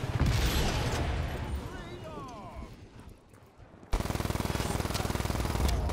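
Enemy gunfire aimed at the player in Just Cause 3, a dense rattle of rapid automatic shots under a wash of noise, dropping away briefly before a steady machine-gun burst resumes loud and close.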